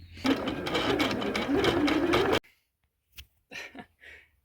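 A sewing machine hemming rolled denim jeans runs in a fast, loud, rhythmic stitching burst for about two seconds, then stops, followed by a few quiet handling clicks.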